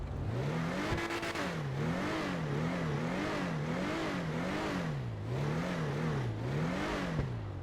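An 80s BMW-style Zion Classic car engine in GTA 5 Online revs up and down in a steady rising-and-falling cycle, droning and mid-pitched throughout, heard alone without talk.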